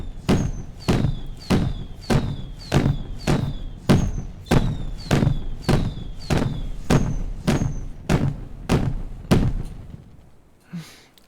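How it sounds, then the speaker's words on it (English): Fireworks going off in the video game Timberborn, a rapid regular series of about fourteen sharp bangs, each with a brief whistling crackle, evenly spaced and loud, fading out at the end. "And he set the fireworks off."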